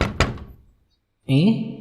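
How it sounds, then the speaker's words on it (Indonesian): A quick double knock lands on a door late at night in a cartoon ghost-house story, two hollow thuds that fade into silence before a voice speaks. "Tepat pukul 11 malam, tiba-tiba ada yang mengetuk pintu."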